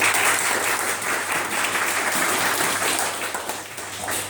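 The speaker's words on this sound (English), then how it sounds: "So can we give them a round of applause?" Sustained applause from a conference audience at an opening address, a dense, steady wash of many hands clapping at full strength throughout, with a faint low hum underneath and no speech.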